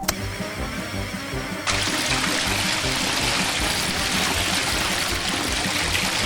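A LEGO water pump on a toy fish transport ship pushes out a steady stream of water, a quieter trickle that suddenly swells into a loud, continuous rushing gush close by.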